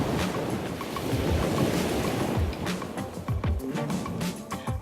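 Ocean waves breaking onto a rugged rocky northern shore on the island of Curacao, a continuous loud wash of surf mixed with wind rumble on the microphone, with sharper crashes near the end.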